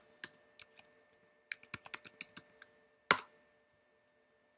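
A password is typed on a computer keyboard as a quiet, close run of separate key clicks, with a sharper tap near the end and gaps of silence between.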